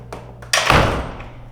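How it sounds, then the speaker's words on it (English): A commercial door with a newly installed handle and strike plate swings shut, preceded by light taps, then a single loud close-up thud as it latches, followed by a short fading ring. "and then I close the door,"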